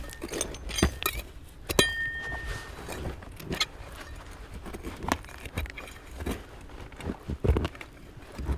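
Antique glass beer bottles, including a tooled crown top from Milwaukee, clink and knock together as they are handled after being dug from an underground structure, giving repeated irregular bright taps and one short ringing note over rustling.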